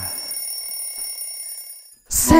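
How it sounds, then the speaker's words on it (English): Bells ring with steady, sustained high tones that hold for about two seconds and then fade out. A voice and a brighter burst of sound break in just afterward. "7 bells are ringing"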